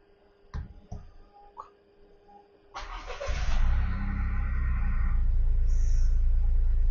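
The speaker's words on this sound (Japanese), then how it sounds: "続いてエンジンをかけてみたいと思います。" A red 2021 Toyota GR Yaris RZ High Performance First Edition with 4WD and 1.6 litre engine is started: a few clicks, then the starter cranks and the engine catches and settles into a loud, steady idle.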